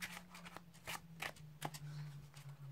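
Overhand shuffling of a deck of playing cards, several short quiet riffling swishes and slaps in an uneven rhythm over a faint steady hum, close by.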